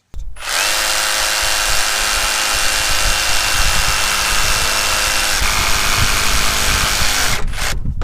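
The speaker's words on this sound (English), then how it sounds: "I'm just showing you where exactly I'm gonna be cutting with the jigsaw" A jigsaw cuts through crown molding with a loud, steady buzzing motor whine that starts abruptly, holds close and constant for about seven seconds, then cuts off.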